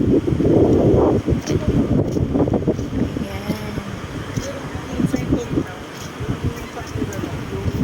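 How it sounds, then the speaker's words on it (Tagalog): Wind gusting across a beach boardwalk at Sabang, buffeting loudly at first and then easing into lighter rumbles, under someone talking and a busy crowd nearby. "Sarap mamasyal dito. Mahangin pa."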